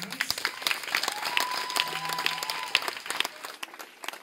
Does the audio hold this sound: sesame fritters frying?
no